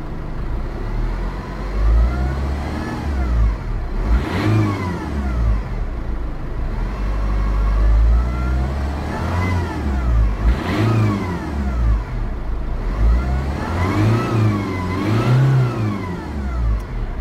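A 2007 Ford Fusion 1.4 TDCI Zetec diesel idles with a low rumbling clatter and is revved several times, each rev rising and falling back to idle, recorded close and without any talking.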